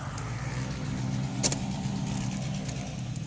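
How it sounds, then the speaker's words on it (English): A four-wheeler ATV engine runs outdoors, giving a steady, fairly close droning hum that barely rises or falls, with a brief rattle partway through and no voices. "Rev that four-wheeler up. Blow that motor."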